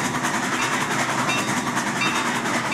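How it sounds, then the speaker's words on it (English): A steam locomotive rolls along a main line track with a steady, dense rumble, rhythmic chugging and rail clatter that stays loud and close throughout, with no voices. "Once they reached the main line and it was deemed safe, Milton puffed away"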